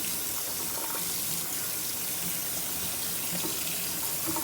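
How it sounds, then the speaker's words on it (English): Tap water runs in a steady, loud gush onto a shirt being soaked before bleach tie-dye, a constant splashing flow that fills the whole stretch with no talking. "So first, you have to wet the whole shirt."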